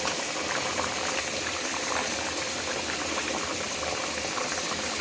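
A pan of fish curry boils at a dense, steady bubble, close and constant through the whole stretch with no talk.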